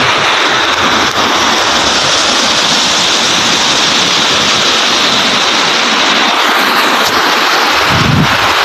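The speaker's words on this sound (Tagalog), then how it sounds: "Ito guys yung dam dito, yung tinatawag na dam." Loud, constant roar of water rushing over a dam, dense and unbroken throughout, like a heavy flow pouring close at hand.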